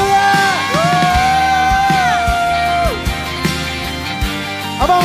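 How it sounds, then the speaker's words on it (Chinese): A church congregation at a worship service cheers and shouts praise to God, a loud sustained roar of whoops and yells from a large crowd, with sliding held vocal cries and low rhythmic music thumping underneath throughout. "给神一个最大的欢呼，哈利路亚"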